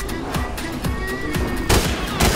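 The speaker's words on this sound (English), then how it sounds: "Wait, I hear gunshot." Gunfire in the Fortnite video game: a string of sharp, repeated shots with a few louder reports near the end, sounding moderately distant over steady game background noise.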